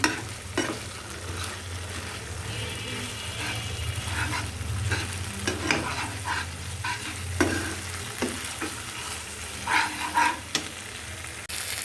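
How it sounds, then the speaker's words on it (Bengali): Spice masala with sour yogurt being stirred and fried in a pan for a Bangladeshi chicken roast, a low continuous sizzle broken by repeated scraping strokes of the spoon at an uneven rhythm. "ভালো মতো নাড়াচাড়া করে নিতে হবে"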